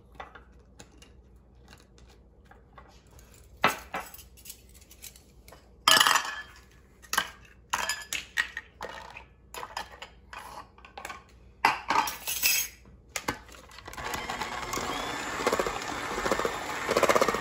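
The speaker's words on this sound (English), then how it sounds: "we're just gonna mix this until it's all homogeneous" Vanilla cheesecake batter being mixed in a bowl, heard as irregular clinks and scrapes of a utensil against the bowl, sparse at first, then busier and louder as the mixing speeds up, with no talk.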